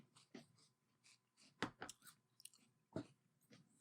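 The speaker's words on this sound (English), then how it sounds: "There's something about the texture of a cereal, the crunch of the cereal." Close, quiet crunching of a mouthful of cereal, with irregular bursts of chewing and a few sharper bites spread over several seconds, plus light breathing between them.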